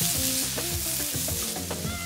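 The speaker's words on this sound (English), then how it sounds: "And in go our onions. Oh, see that beautiful sound." Onions dropped into a hot pan for a samp and beans dish hiss and sizzle steadily up close, with a few stirring scrapes and no voices over them.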